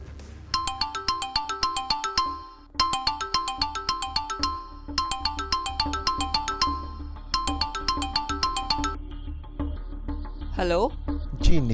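A phone ringtone plays on an incoming call, a melodic chime repeating in four even bursts, close and clear, before a brief different blip at the end.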